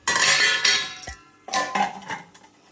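A metal pot of milk is set on a home kitchen stove to heat, making close clanks and clinks of cookware in two short bursts separated by a brief pause.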